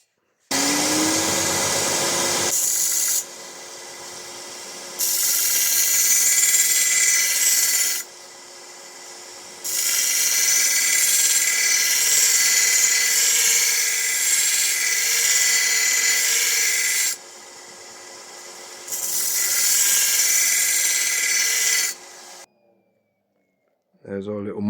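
A sharpening tool grinds a steel mower blade, putting on a micro bevel, in repeated bursts of harsh, loud grinding separated by short pauses, with a quieter rubbing pass between the strokes.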